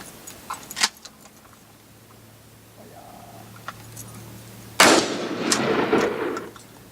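A new shotgun fires during skeet shooting: a sharp blast near the start, then a single loud shot with a ringing, echoing decay, plus small clicks and handling noises of the gun in between.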